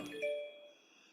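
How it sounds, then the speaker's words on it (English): A phone rings once with a short, bright electronic chime that rings out and fades over about a second, faint and somewhat distant. "sorry, my phone rang"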